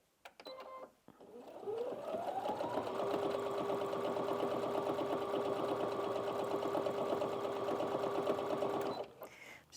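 Brother Inventio NV1850Q sewing machine stitching in one long continuous run of about seven seconds, close and steady with a whirring hum, starting after a brief click and stopping abruptly.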